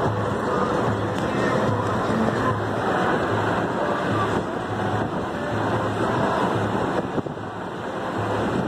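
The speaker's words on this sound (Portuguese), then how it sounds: "Só beira-mar." Ocean surf along the Recife seafront, a continuous loud wash of waves mixed with strong wind buffeting the microphone, with faint traffic in the background.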